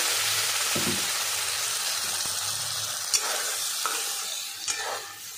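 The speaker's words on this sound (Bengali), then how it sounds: "আমার কারি পাতাটা ভাজা হয়ে গেছে।" Curry leaves frying in a pan for chutney, a steady loud sizzle with occasional scraping stirs and small clicks of a spoon against the pan.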